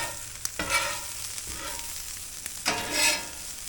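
Shrimp and vegetables are stirred and sizzle on a Traeger Flatrock griddle, with a steady frying hiss broken by a few scraping, tossing bursts of the spatula, close and fairly quiet.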